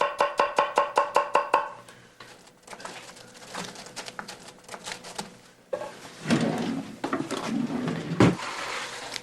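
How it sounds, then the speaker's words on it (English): A knife slices red onion on a board over baby spinach leaves, opening with about eight quick, evenly spaced, crisp cuts, then softer irregular chopping and rustling, with a few louder knocks near the end. "now I'll simply slice that red onion right on top of those beautiful baby spinach leaves"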